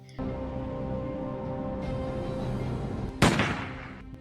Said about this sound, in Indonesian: Pardo tidak mau menembaknya hingga si Kalajengking menembak kepalanya sendiri.